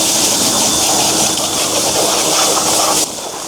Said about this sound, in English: here it is, pressure washing the engine bay